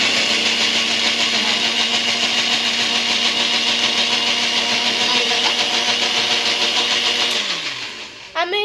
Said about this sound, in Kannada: ಇದು ನಮ್ಮದು ಜಾರ್ ಅಲ್ಲ, ಏನದು ಮಿಕ್ಸರ್ ಗ್ರೈಂಡರ್